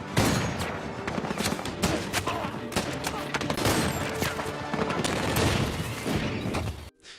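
Dense gunfire crackles throughout a dramatized hostage rescue, rapid overlapping shots forming a sustained loud fusillade that cuts out abruptly at the very end.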